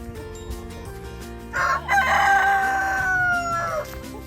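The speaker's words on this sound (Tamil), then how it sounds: "இந்த மாதிரி சேவல் கூவுறது," Rooster crowing once at a farm setting, a loud, close call rising and holding before trailing off, heard over a low background hum with no talking.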